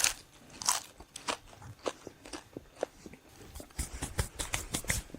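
Close, crisp crunching and biting, irregular bursts of crackly chewing repeating over a few seconds, with no talking.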